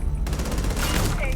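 Rapid automatic gunfire from a weapon in the space game Starfield: a dense, steady train of close, loud shots that starts abruptly and runs continuously without a break.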